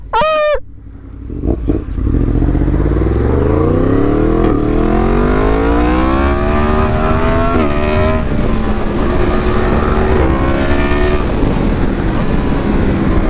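A Yamaha MT-10 with a bigger rear sprocket roars up through the revs while riding, loud and close, its pitch climbing steadily with brief dips at gear changes over heavy wind rumble, after a short horn-like squeal at the start.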